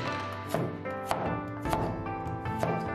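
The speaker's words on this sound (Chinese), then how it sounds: "大蒜切成丁，" A knife dices garlic on a cutting board with about five distinct, sharp chops spaced at irregular intervals, each cutting through steady background music.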